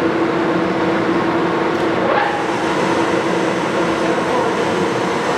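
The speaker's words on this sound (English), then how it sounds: "Okay, that's 740 RPM." Large Leblond 32 x 96 engine lathe turning at about 740 RPM, a loud, steady mechanical drone with an even low hum and no breaks.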